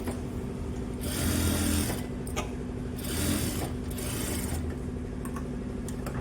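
A sewing machine stitches a blouse hem in three short, close runs of steady mechanical whirring, separated by quieter pauses, with no voices.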